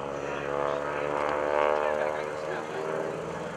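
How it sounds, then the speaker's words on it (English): A 450-horsepower Super Stearman biplane flies in at the 2013 Greenwood Lake airshow, a steady loud radial-engine drone with a rich propeller hum that swells slightly as it passes. "From the right, Bill Gordon coming in with the 450 horsepower Super Stearman"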